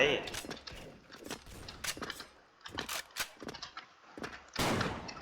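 Repeated sharp gunshots from a Zastava M76 rifle in a shooting video game, fired in irregular bursts of loud broadband cracks amid footsteps and game noise, with someone talking excitedly over them.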